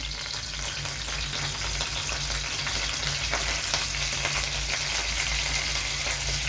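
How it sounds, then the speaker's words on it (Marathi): Cumin seeds sizzle in hot oil in a pan for a Marathi potato side dish, giving a steady, close crackling hiss throughout with no talk. "बघा, जिरं फुललेलं आहे व्यवस्थित."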